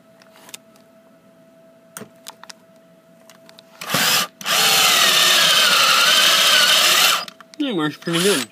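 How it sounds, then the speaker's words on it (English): Firestorm 18-volt cordless drill running on a 12-volt battery, boring a hole in pine, a loud sustained whine lasting about three seconds after a short startup burst, with a quiet voice before and brief revving after. "Let's try drilling a hole with this."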